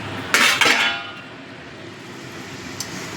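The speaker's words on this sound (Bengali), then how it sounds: "ঢাকাটা আমি খুলে নিলাম।" A metal lid lifted off a pan on a low gas flame, okra cooking in mustard and poppy seed paste beneath it, giving two quick clanks close by, then quiet sizzling background.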